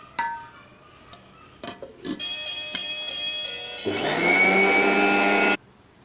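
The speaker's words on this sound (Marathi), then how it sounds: "एकदा मिक्सरमधून वाटून घेणार आहे व्यवस्थित" A few clicks and knocks lead into a short whirring run, then a loud mixer grinder grinding peanut chutney with red chilli roars for about two seconds and cuts off abruptly.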